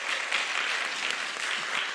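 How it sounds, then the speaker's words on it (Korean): Dense, continuous applause from a youth retreat congregation in a church, a steady wash of many hands clapping at once, even in level and close, with no voices over it. "우리 한영기 박수 한번 해드릴까요?"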